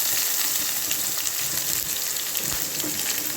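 Constant loud sizzling and crackling of chopped onion and curry leaves frying in hot oil, close up, with occasional stirring sounds.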